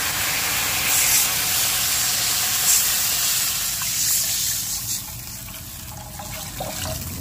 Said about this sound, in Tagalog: Lagyan na natin siya ng tubig mga kabayan.